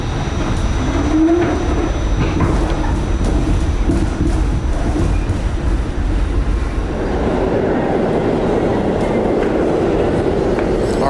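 A New York subway train riding between Canal Street and 14th Street, a loud continuous rumble and rattle of the car interior with wheel clatter, a short squeal early on, no talk.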